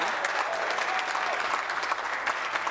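Steady applause fills a legislative chamber during Question Period, a dense, even patter of many hands clapping at moderate volume.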